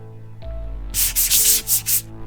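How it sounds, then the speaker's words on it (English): A textured rolling pin rolls over a miniature modelling base for a Skaven assassin figure, giving close, loud rubbing passes in a steady back-and-forth rhythm with a low hum beneath. "And then I'll take my textured rolling pin and add some texture."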